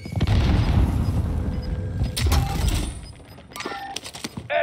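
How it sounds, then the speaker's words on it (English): A frag grenade explodes in Call of Duty: Warzone Pacific during a battle royale quads match on Caldera. A heavy, close boom rumbles for a couple of seconds, followed by a second burst and crackling debris. "Throwing frag."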